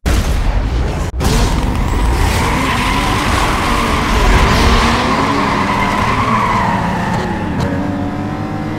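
Race car in a Need for Speed Most Wanted custom circuit race with automatic transmission: loud, continuous engine roar with shifting pitch, long tire skids layered on top, and one brief cutout early on.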